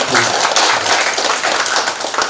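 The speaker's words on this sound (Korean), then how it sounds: "박수로 한번 부탁드립니다." An audience at a Korean clan association's annual general meeting applauds; dense, loud, sustained clapping from many hands filling the room with no voices over it.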